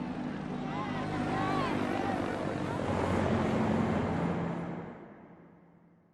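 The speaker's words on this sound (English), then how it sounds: "they looked up at the helicopters leaving" Helicopters flying away during the last days of the Vietnam War, a dense rotor and engine roar that holds steady, then fades as they recede, with speech faintly under it.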